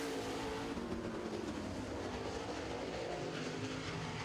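Late model race cars roar steadily around a racetrack during a feature race, a dense, continuous engine drone that stays loud and unbroken throughout, with no talk.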